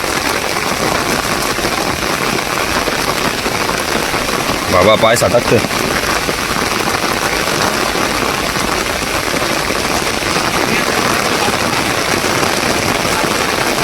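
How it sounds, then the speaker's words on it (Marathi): Heavy rain pours steadily beside a rising river, a loud, dense hiss with a brief louder burst midway, while someone talks over it. "बघा पाऊस पडला हो"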